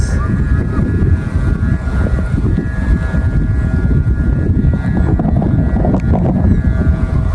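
Loud, constant wind roar buffeting close by at a flying bee-shaped kite in strong wind, with an engine-like hum running steadily underneath.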